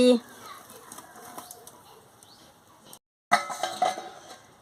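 A cooking pot is set down on a stove while making a Bengali khosla shak bati chorchori, giving a sharp metallic clink at the start, then quieter handling and faint clatter with brief clinks near the end.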